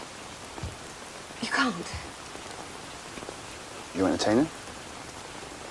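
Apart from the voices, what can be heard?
rain falling in a period drama scene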